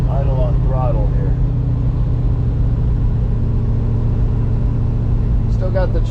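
A 1966 Ford truck V8 idles with the choke still out after a cold start, a steady low rumble running throughout, with a voice talking over it at the start and near the end.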